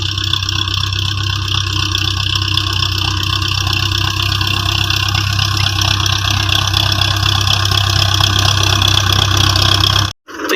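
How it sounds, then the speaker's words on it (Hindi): A tractor pulls a potato harvesting machine through a field, its engine droning loud and steady close by with a constant low hum and mechanical rattle, briefly cut off at the end. "ये सामने ट्रैक्टर चल रहा है, इसके पीछे मशीन है जो आलूओं को ज़मीन से बाहर निकाल रही है।"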